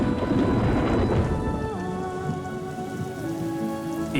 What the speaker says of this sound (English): Light rain between the showers.